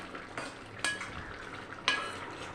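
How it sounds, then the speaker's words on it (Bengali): A spoon stirs a rohu fish curry with fresh coriander leaves in a pot over low sizzling, with two sharp scraping clinks against the metal and softer stirring sounds between them, close and alone. "এবার একটু নেড়ে চেড়ে নেব"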